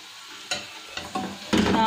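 Gooseberry pickle with chili powder and spice powder being sautéed in a pan, giving a close, steady sizzle broken by several louder stirring scrapes.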